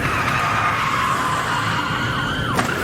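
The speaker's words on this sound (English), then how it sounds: "This spinout was unavoidable once the top-heavy van clipped that car." Tires shriek in one long continuous skid as a top-heavy van spins out after clipping a car during a police chase, loud and steady with a wailing edge before it briefly breaks off near the end.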